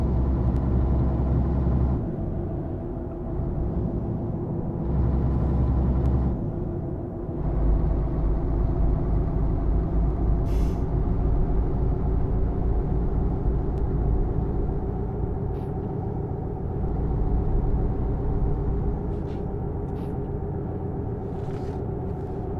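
A bus engine in Euro Truck Simulator 2, a Travego coach droning steadily through traffic, with a continuous low rumble that swells and eases as it accelerates and a few faint air-brake hisses.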